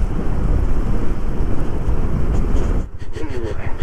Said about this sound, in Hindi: यहाँ पे अच्छी खासी बारिश हो रही है